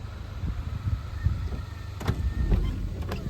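A car's electric power window motor whirs as the glass closes, a steady low drone with a few faint clicks near the end, heard close inside a parked car on a trip to Ganpatipule.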